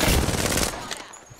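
Rapid automatic gunfire in Apex Legends, a loud dense burst of shots filling the first second before cutting off and fading.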